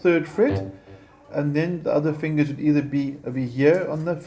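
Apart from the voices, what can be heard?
None of the usual background noises is heard.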